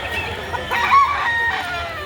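A rooster crows once, near and loud, amid clucking fowl at a chicken market behind SM Lipa City, Batangas.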